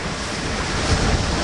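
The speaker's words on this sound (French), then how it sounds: "On voulait du vent, on en a." Strong wind roars with breaking waves at sea on a sailing boat reaching across 20-22 knots of wind during an ocean crossing, a steady loud broadband rush with no talk.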